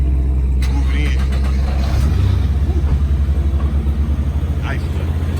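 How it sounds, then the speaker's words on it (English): A Nissan GT-R engine starting nearby: a deep rumble swells partway through and settles into a throbbing, pulsing idle, with people talking over it. "He finna start up the GTR."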